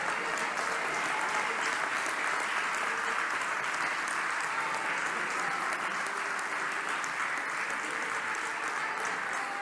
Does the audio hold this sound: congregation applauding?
yes